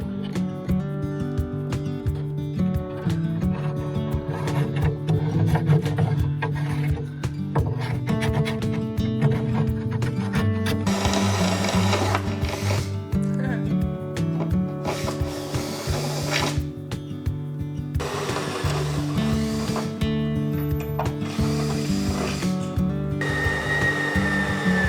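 A power drill bores into the corners of a steel boat bow with whining bursts of varying pitch, broken by short pauses and grinding surges, loud and close with no talking.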